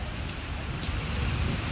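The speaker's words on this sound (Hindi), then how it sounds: "ये देखें कितनी मोटी मोटी ड्रॉप्स हैं, यहाँ से देखिए ह्यूज रेन ड्रॉप्स।" Torrential rain with huge drops pours down in Islamabad, a loud, continuous roar of water hitting surfaces close by.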